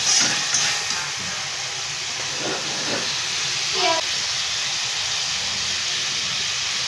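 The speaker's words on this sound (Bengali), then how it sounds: "চুলোর আঁচকে হাইতে দিয়ে ভালোভাবে কিমাটা ফ্রাই করে নিতে হবে" Minced meat frying in a pan over high heat, a steady loud sizzling hiss with faint clinks from stirring, no voices.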